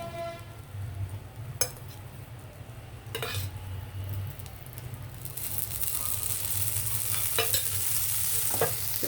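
Chana toast sizzles in ghee on a pan, a steady soft frying hiss with occasional sharp scrapes and clinks of a utensil against the pan, growing slightly louder toward the end.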